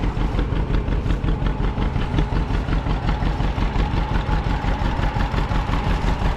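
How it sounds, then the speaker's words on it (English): Old two-cylinder John Deere tractor engine running steadily at a loping idle, its low, even pulsing chug loud and close throughout, with no voices. "I like the sound of an old two-cylinder"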